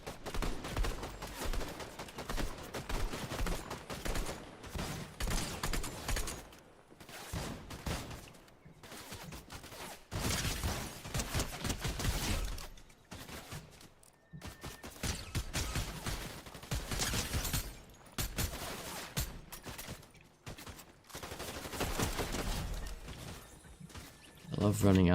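Video game gunfire during a live streamed match, with repeated bursts of automatic shots and fusillades in dense runs broken by brief pauses, loud and close, with players talking over it.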